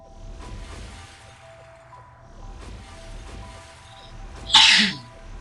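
A single sharp sneeze bursts out near the end after quiet room noise with a low steady hum, loud and close.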